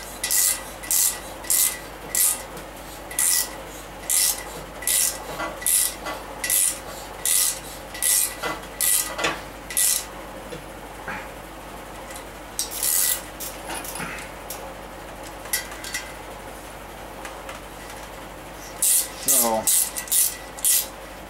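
A thread chaser works the bolt holes of a 383 stroker engine block, making repeated short scraping, rasping strokes in a regular rhythm, with brief pauses and a few light metallic clinks.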